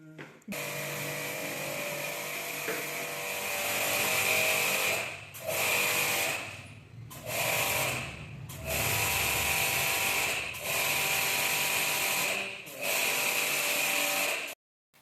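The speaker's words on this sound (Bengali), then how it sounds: "এগুলো এই জেট পাম্প দিয়ে সব কিছু বিদায় করে দেওয়া হচ্ছে" A jet pump runs loudly while flushing out dirty water, a harsh whining motor noise that cuts off and restarts several times in bursts of a few seconds each.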